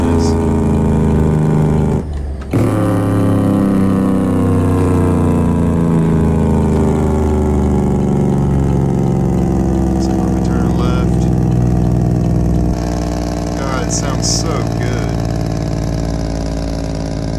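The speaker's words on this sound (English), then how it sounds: "Get that awesome jake brake. Try to slow down a bit." A Peterbilt 379 truck in American Truck Simulator, its jake brake giving a loud, steady low engine drone that holds for a long stretch, with a brief dropout and faint background clicks.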